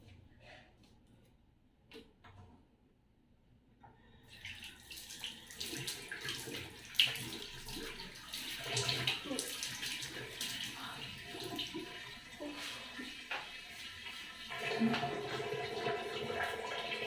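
Tap water runs in a home bathroom sink during face washing, a steady broadband wash after a quiet start, with splashes and someone talking intermittently over it.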